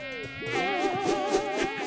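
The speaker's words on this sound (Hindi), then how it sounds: "ओफो, फिर से मच्छर," A cartoon mosquito buzzes with a high, whining drone that wavers in pitch, loud and close for about two seconds with no voices.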